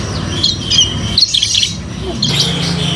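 A young songbird in a cage sings bright, repeated chirping phrases, loud and close, with short pauses between the bursts and no talking.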